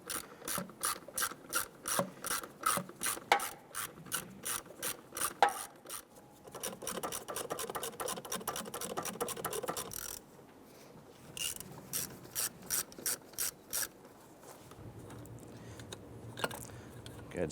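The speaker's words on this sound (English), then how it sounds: "Go ahead and remove that bolt. And do the same for the other 3." A hand ratchet turns out the bolts on the intake of a 1995–2001 Ford Explorer, rust-sprayed hardware giving steady runs of quick, close metallic clicks with short pauses between bolts and no talking.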